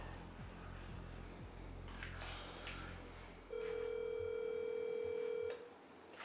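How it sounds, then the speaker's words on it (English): Telephone ringback during an outgoing call: a steady electronic ring tone holds for about two seconds, loud and close, after a stretch of low background rumble. "How many times the phone ringing when you're calling?"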